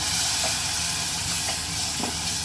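A steady, hissing sizzle of a little water hitting hot oil tempering for Maharashtrian spicy dal, broad and continuous, with a few faint pops and crackles rising through it.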